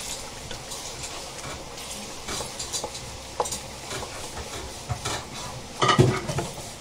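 A spoon stirs shahi jeera (black cumin) into mutton in a pot for mutton kunna gosht, with soft scraping, intermittent metallic clinks and a faint sizzle, ending in a louder clatter against the pot.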